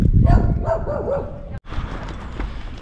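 A dog barks and yips agitatedly outdoors in Bagnoles-de-l'Orne during an attack on another dog, with a few close, loud barks early on, followed by scuffling noise.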